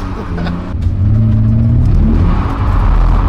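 A drift car slides through a snowy field with its engine droning loud and close, the revs climbing and settling in a steady, rumbling whine as it skids.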